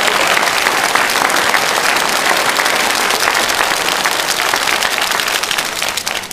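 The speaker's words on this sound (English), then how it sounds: "So how about a round of applause for our civilian teammates" An audience at an Air Force base commander's call and quarterly awards ceremony gives a full, sustained round of applause, loud and steady throughout before tapering slightly at the end.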